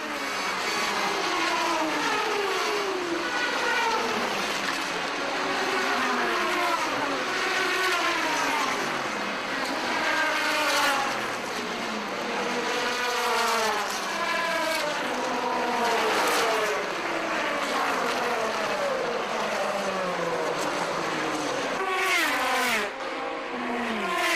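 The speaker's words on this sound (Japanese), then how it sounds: "第73回ルマン24時間耐久レースがスタート。" Race cars at the start of the 73rd Le Mans 24 Hours in 2005, on a hot afternoon. Loud, continuous engine roar with many overlapping cars sweeping past one after another, their pitch rising and falling as they pass.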